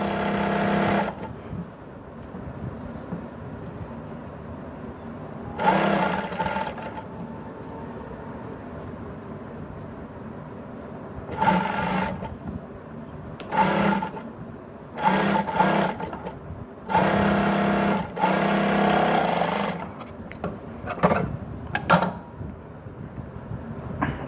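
An electric sewing machine stitching a strip of fabric for a puff sleeve runs in loud whirring bursts of a few seconds each, separated by quieter pauses in a room with steady background hum.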